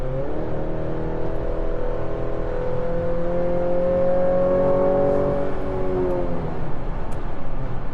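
A 2026 Chevy Colorado ZR2 pickup truck accelerates from about 60 mph, its engine tone rising steadily in a smooth drone heard from the cabin, with no talking.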